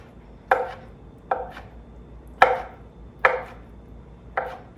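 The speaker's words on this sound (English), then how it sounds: "All I'm gonna do here is just give these a rough chop" Green olives with pimentos are roughly chopped with a knife on a cutting board, five distinct, evenly spaced chops sounding close and crisp over quiet background.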